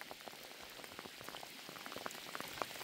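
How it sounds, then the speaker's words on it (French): Rain pattering on a fishing boat during a storm, a dense hiss of close, irregular drop ticks and splashes that stays steady. "Puis ça pleut."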